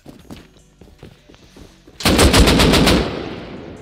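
In the console version of the video game Rust, light clicks and footsteps give way to a sudden loud burst of rapid automatic gunfire lasting about a second, then a fading echo.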